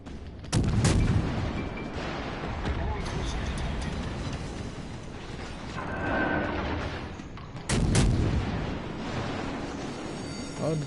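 In World of Warships Legends, two deep naval gun booms and explosions land several seconds apart over a constant rumbling battle background, while a voice talks throughout.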